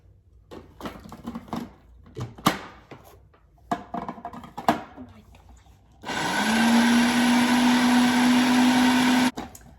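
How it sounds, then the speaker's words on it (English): Paleo muffin dry ingredients get a few knocks and rustles in a food processor, then the motor kicks on with a loud, steady whirring drone for about three seconds before cutting off abruptly. "We're gonna put this on our food processor and just blend her up just a little bit"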